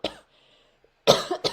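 A person coughs sharply several times: one short burst at the start, then after a pause a louder rough cough followed by another quick one, all close up with no other sound between.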